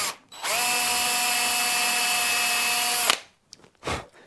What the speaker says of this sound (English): basically I'm drilling through a fret slot